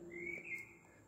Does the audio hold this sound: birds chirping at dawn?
yes